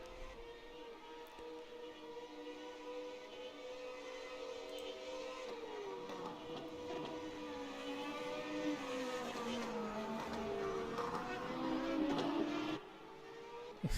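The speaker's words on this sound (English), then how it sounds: "You can just hear from the engine notes how little Zenkov is pushing here" A classic Formula 1 car engine in the rFactor 2 racing game at Silverstone, with a steady, rising and falling engine whine held over fourteen seconds, moderately faint and continuous, with no voices.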